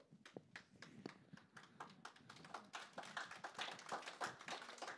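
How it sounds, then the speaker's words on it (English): Audience at a football club fans forum gives a round of applause, a fairly faint, continuous patter of many hands clapping heard from some distance. "Nice round of applause."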